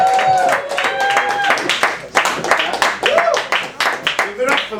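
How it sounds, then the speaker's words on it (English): A crowd at an open mic night claps and cheers loudly, with whoops and voices mixed into the steady applause. "can we get a big round of applause for the man, Spoken P, everybody?"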